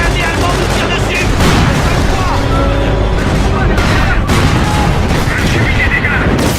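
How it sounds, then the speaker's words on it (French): A German armored vehicle fires in a battle in Company of Heroes, with constant loud booms and gunfire layered over continuous battle din. Voices can be heard faintly in the mix. "Un blindé allemand nous tire dessus."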